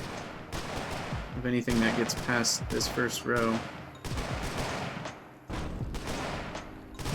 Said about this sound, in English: And then the musketeers and hand cannons do the work